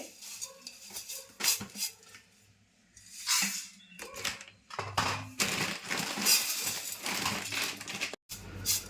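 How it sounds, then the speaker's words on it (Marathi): Dry flattened rice shaken and rubbed through a sieve, giving bursts of gritty rustling and light scraping clatter that come and go over several seconds, close by, with no talk. "आता मी पोहे चाळून घेते"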